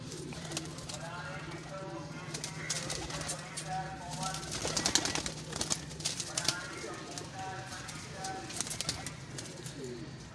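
Pigeons coo repeatedly in a loft of pedigreed racing birds, a soft steady murmur under someone talking nearby, with occasional wing flutters.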